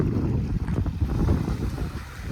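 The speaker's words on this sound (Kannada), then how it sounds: "ಆ ಒಂದು ನೀರಿನ ಒಂದು ಶಬ್ದ ಕೇಳ್ಬೋದು ನೀವು." Water laps and churns on the Tungabhadra river backwater, a close, continuous rushing wash mixed with wind buffeting the microphone, with no talking.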